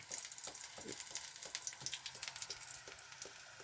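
Food frying quietly in a pan with asafoetida added, part of a parotta gravy cooked in a home kitchen: a soft, steady sizzle with scattered small crackles and pops throughout.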